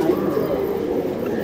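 Pigeons coo in a rooftop loft, a low soft burbling close by over a steady background hum, brief and continuous without talk.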